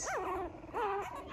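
A three-week-old Cavalier King Charles spaniel puppy whimpers close by in two short rising-and-falling cries, high and thin over a soft background hiss.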